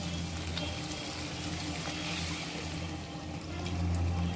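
Water pours steadily into a pan of cooked-down tomato gravy for semiya kichadi, a soft continuous splashing and trickling that runs alone for several seconds and swells slightly near the end.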